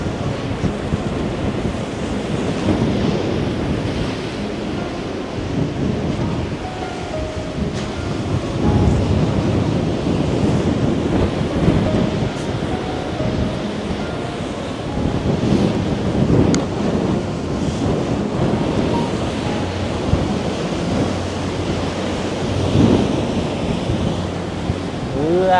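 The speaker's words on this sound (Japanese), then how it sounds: "めちゃめちゃ風強い" Strong wind buffets the microphone on the coast at Kamakura while ocean waves roll and crash in a constant loud roar, with heavier gusts surging through the whole stretch.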